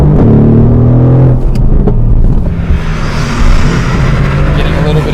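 Car engine rumbling loudly as the driver puts power down from a launch, a deep droning roar that rises in pitch and turns to strong road and tyre noise, close inside the cabin.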